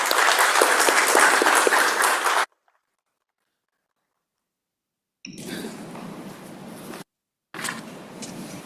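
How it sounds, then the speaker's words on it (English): Dense audience applause welcoming the chief guest at an inaugural session, loud and sustained before cutting off, then two shorter bursts of clapping after a silent gap. "please join hands and a big round of applause in welcoming sir"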